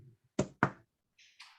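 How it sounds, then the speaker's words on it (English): Two quick, sharp knocks on wood land close together, close and clear in a quiet room, followed by faint brief higher-pitched sounds. "Knocking on wood."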